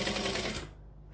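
A sewing machine runs a short, rapid burst of stitching along the edge of a fabric lining, close and fairly quiet, then stops abruptly into near silence.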